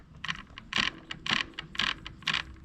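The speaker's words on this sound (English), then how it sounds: "It's like the gears inside the EP8 motor that sort of spin backwards on themselves when they mesh" Shimano EP8 e-bike mid-drive motor with its internal gears rattling as they mesh, a crisp clicking chatter in five or six short bursts about half a second apart, moderately close and heard alone without talk.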